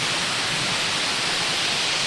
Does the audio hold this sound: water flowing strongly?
yes